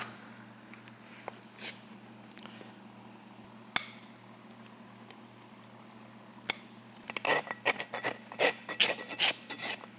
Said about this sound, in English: So there's just a little bit of trimming to do here.